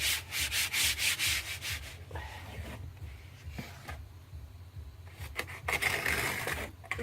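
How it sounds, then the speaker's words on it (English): Application tape gets smoothed by hand onto the top of a box in a laser-cutting workshop, giving close, soft rubbing and scraping strokes in uneven bursts, louder at the start and end, with no voices. "I'm going to put this tape on top of the box here, lining him up, just smoothing out any bubblages."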